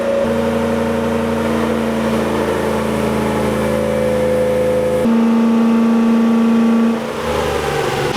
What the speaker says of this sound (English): This engine is putting in the work